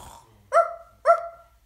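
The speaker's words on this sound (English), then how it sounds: "On a dozing dog," Two sharp, close dog barks in quick succession, each with a rough, growly edge.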